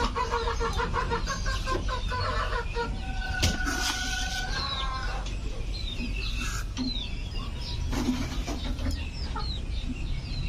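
Backyard chickens and chicks being fed crumble, with hens clucking and cackling close by and small chicks peeping over a constant outdoor background hum.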